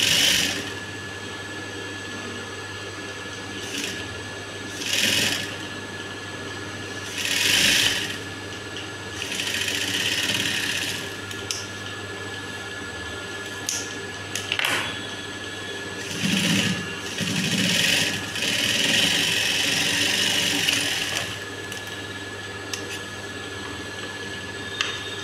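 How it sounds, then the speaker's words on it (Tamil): A sewing machine stitching a blouse runs close up in steady bursts for about 25 seconds, its motor humming beneath a rapid mechanical needle rattle that surges and eases. "இப்போ நம்ம தைக்கும்போது கரெக்டாக பாருங்கள், இந்த தையலில் வரணும்."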